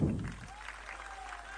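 Crowd applause at a political rally addressed by Navjot Sidhu, a diffuse wash of clapping that swells briefly at the start and then continues at a low, steady level.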